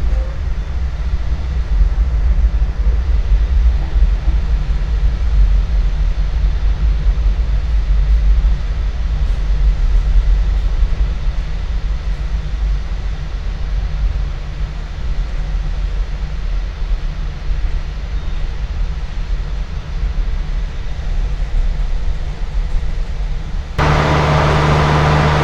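The Fajar Utama train from Yogyakarta passes on the Java line, a loud, steady rumble and rolling roar that holds for most of the stretch before cutting abruptly to a different, quieter background near the end.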